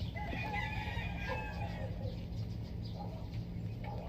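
A chicken cries out in a drawn, wavering call over a steady low background hum, with a few shorter clucks following.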